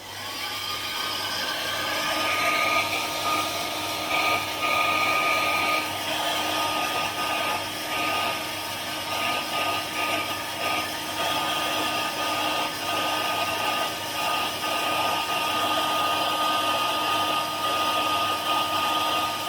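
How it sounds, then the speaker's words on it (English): A power mixer stirring resin whines steadily and loudly for a long stretch, a constant high motor drone with slight fluctuations and no voices. "let's stir this resin"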